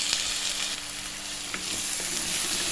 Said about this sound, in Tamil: தக்காளி வெங்காயம் நல்லா வதங்கட்டும்.